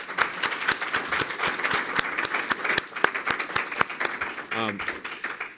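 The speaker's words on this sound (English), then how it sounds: "Let's first give a round of applause to both of our speakers tonight" Audience applause at the close of a 2018 evening debate on gun ownership, with many distinct sharp claps ringing out near and loud, joined by a brief voice toward the end.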